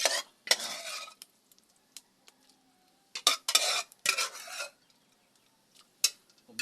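A spoon stirring mung beans into dinuguan in a pot, with repeated scraping, rasping strokes in separate bursts and quiet pauses between them, close and clear.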